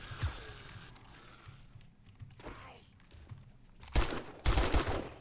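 Video game gunfire crackles in several bursts, with a sharp shot near the start and louder rapid volleys toward the end, over a quiet background and occasional clicks.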